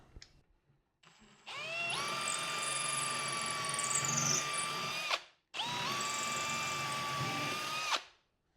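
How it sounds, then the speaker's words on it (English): A power drill drilling holes in wood whines at high speed in two long bursts, revving up and running steadily before stopping, close and loud. "and drill the holes"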